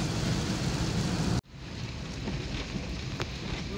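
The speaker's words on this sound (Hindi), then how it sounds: "बारिश हो रही है" Steady rain hissing continuously, with a brief cut partway through before the downpour resumes, broad and close with a touch of wind.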